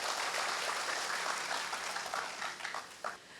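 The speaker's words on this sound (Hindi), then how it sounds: "एक बार ज़रा ज़ोरदार तालियां बजा दें।" Applause from an audience at a district development discussion event in Sant Kabir Nagar, Uttar Pradesh, a dense, steady patter of many hands that gradually thins and fades toward the end.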